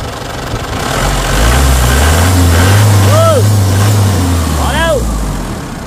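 An Isuzu D-Max diesel pickup engine rumbles steadily at idle, loud and close, with a couple of brief squeaky chirps over it.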